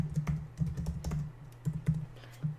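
Keys clatter on a computer keyboard while a password is entered, a series of quick close taps in short bursts with brief pauses between them and no talking.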